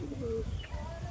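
A pair of black pigeons coo softly in a low, rolling tone, a short murmuring call close by over faint background noise.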